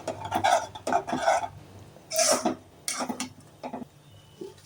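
Thick black Kozhikode halwa made with wheat flour is stirred in a pan, giving repeated scraping and clinking strokes of the spoon against the metal in an uneven rhythm, close and moderately loud.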